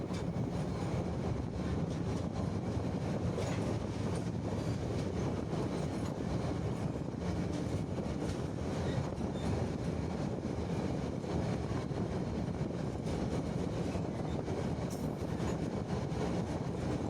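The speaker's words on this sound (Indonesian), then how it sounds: "Kereta terus melaju" A passenger train rumbles steadily along the rails through hilly country in West Bandung, Indonesia, a continuous rolling roar with faint wheel noise and no voices.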